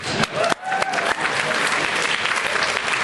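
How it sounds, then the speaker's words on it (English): An audience claps loudly and steadily, a dense wash of applause that holds throughout with a few sharper claps near the start. "We applaud intelligence."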